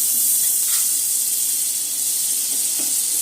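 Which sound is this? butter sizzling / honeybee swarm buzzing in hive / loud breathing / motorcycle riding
butter sizzling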